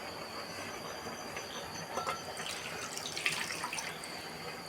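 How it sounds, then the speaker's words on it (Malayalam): Boiling water splashing and pouring steadily into a vessel, a soft continuous hiss with a few brief clinks, moderately quiet and without any voices. "തിളച്ച വെള്ളം തിളച്ച ചൂടുള്ള വെള്ളം അങ്ങോട്ട് ഒഴിച്ചു കൊടുക്കണം"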